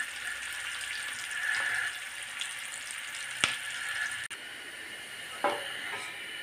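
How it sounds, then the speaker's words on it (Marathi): Onion frying in oil in a pan for a Marathi oyster masala, a steady soft sizzle with a few clinks and stirring scrapes, close and alone. "कांदा मस्त भाजला पाहिजे, तेलात तळला पाहिजे।"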